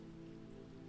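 Steady rainfall on an English cottage, a soft, even patter with a low constant hiss and no other sounds.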